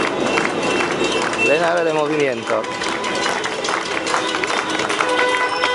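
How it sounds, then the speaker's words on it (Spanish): Street protest crowd at a corner in Buenos Aires, pots banged and hands clapping in a continuous dense clatter, with someone speaking over it and chanting voices rising briefly. "Gritan palabras de orden mientras con cacerolas y con palmas agitan y hacen muchos"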